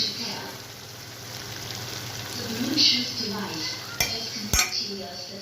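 A spoon scrapes and clinks against a pot while spiced meat, seasoned with black pepper, mixed spices and cumin, is stirred; soft scraping with a few sharp metallic knocks near the end, and a voice talks over it.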